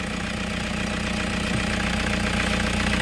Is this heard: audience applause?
no